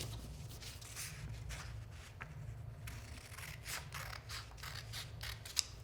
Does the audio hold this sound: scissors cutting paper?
yes